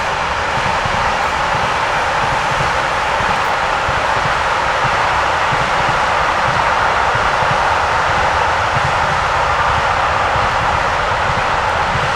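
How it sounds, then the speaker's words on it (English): Continuous loud rumbling roar of trains passing near a cemetery, steady and unbroken with no voices. "These poor dead people have to listen to trains all day, every day."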